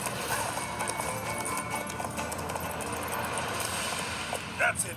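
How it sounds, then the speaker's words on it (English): Horse hooves clip-clopping at a steady trot in The Witcher 3 game, played on a Steam Deck, running continuously under a busy ambient game soundscape with faint background voices. "That's it, Roach."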